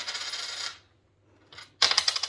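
A pet parrot plays with loose change, sending coins jingling and clattering in quick bursts separated by a brief silent gap, close by and with no speech.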